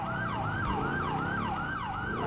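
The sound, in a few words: police motorcycle siren in video game GTA V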